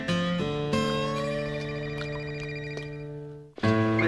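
An indoor telephone rings with a steady electronic tone that holds and fades, then another ring starts abruptly at the end, heard alone.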